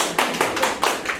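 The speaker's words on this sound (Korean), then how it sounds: "박수까지 그렇게 안 치고 싶은데 그렇게 억지로 치지 마시고" A few hands clap at a brisk, slightly uneven pace, about five close, sharp claps in a quiet indoor room.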